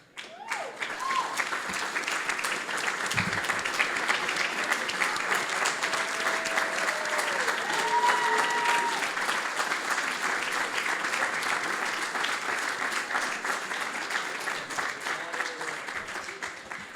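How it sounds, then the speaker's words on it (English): A large audience gives a sustained round of applause for past awardees standing at a presentation ceremony, full and even clapping throughout, with a few faint voices and brief whistle-like tones drifting through the crowd noise. "Requesting all past awardees, please stand for a round of applause."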